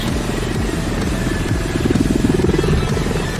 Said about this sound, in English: Spongia is commanding the Mi-8